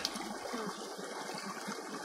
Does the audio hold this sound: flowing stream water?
yes